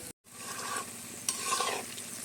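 Palm fruit fritters (taler bora) deep-frying in oil, a continuous dense bubbling sizzle with a short break near the start and a brief swell of stirring, close and alone.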